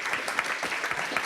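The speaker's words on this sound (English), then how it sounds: "please join me in giving a round of applause to our panelists from the Institute for Integrated Transitions" A room full of people gives a brief, steady round of applause for panelists at a policy discussion on Venezuela. Dense, even clapping, moderately loud, lasting only a moment.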